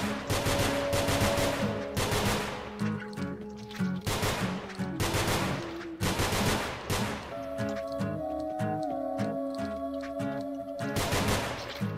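Rapid bursts of gunfire in the video game Nongunz, loud repeated shot clusters in irregular volleys over a steady electronic music bed, no talking.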